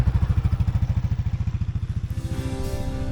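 A motorcycle on a test ride after new tires, its engine thumping in a quick regular beat up close, then the pitch rising as it accelerates away toward the end.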